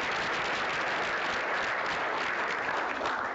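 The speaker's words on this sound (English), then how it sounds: "if we can get a round of applause for Bernice." An audience claps continuously, a dense, even wash of applause that stays steady for a few seconds.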